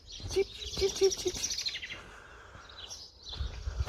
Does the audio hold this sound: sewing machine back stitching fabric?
no